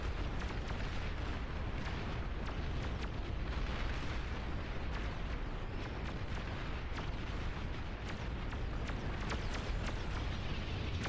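Dense, continuous rumbling blasts fill a strategy video game's battlefield as bombers strike, a steady wash of overlapping explosions and crackling pops that never lets up.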